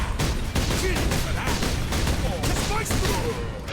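Dense, loud video-game gunfire rattles in rapid bursts and single cracks against Space Marines, almost without pause, with a voice speaking over the shooting.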